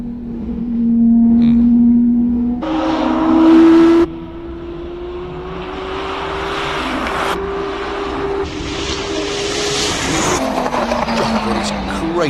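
A race car climbs a hillclimb course at full throttle, a loud sustained engine note rising and shifting with gear changes as it passes, with a faint tyre squeal and brief commentary talk over it.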